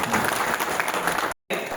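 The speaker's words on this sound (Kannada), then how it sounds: "ಈಗ ಒಂದು ಜೋರು ಚಪ್ಪಾಳೆ ಹೊಡ್ರಿ ಅವ್ರಿಗೆ" Dense, steady applause from an audience at the opening of Kothali Shiddeshwar Bank fills the moment, with a brief dropout near the end before the clapping resumes.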